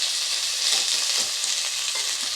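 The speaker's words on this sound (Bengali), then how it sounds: "এবার আলুগুলো দিয়ে দিচ্ছি, পেঁয়াজটাও আমি এতে দিয়ে দিলাম।" Potatoes and onion sizzle in hot oil, a loud, close, even crackling hiss that holds steady without pause.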